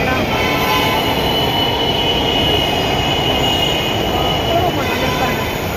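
A metro train rolls loudly through a station near Koyambedu, its wheels rumbling in a dense roar with faint squeals riding above it. The noise stays close and constant for the whole stretch.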